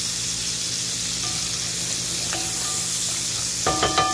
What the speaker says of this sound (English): saute that up just a little bit.